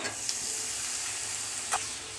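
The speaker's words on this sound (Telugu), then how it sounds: "అల్లం వెల్లుల్లి పేస్టు బాగా పచ్చివాసన పోయిన తర్వాత కడిగి పెట్టుకున్న చికెన్ను అందులో వేసుకొని" Chicken fries in a pan with ginger garlic paste, giving a steady close sizzle and hiss with a couple of brief stirring scrapes.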